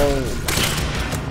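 Rapid gunfire from the action video game Quantum Break, a close, loud burst of several shots cracking over a steady low rumble just after a brief voice at the start.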